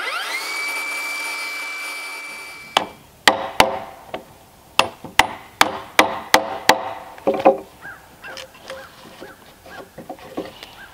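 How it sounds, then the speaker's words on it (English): Chisel chopping out mortises in a timber frame for an off-grid workshop: a run of about a dozen sharp, evenly paced mallet-on-chisel strikes into wood, close and loud, following a quieter steady hum with no voices. "So we've got two more mortises that we're going to have to dig out here."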